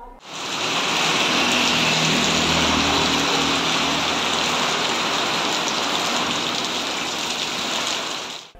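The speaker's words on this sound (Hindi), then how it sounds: "यहाँ तक कि शहर के भी कुछ क्षेत्रों में हल्की तो कहीं तेज बूंदाबांदी हुई है।" Steady rain falls across a town in Chhindwara, a dense hiss of drizzle building quickly and holding at an even, fairly loud level before fading at the end, with no voices.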